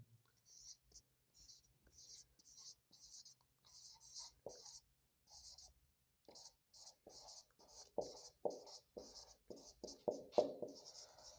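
A pen scratches across paper in short bursts while someone works a physics problem, close and soft, with quiet speech running alongside the strokes.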